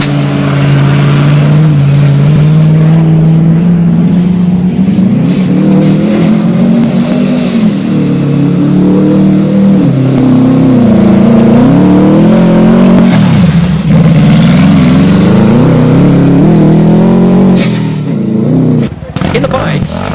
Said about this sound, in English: Hayes, seen here catching Salim Wali Hamid, was on a mission in a Subaru-powered buggy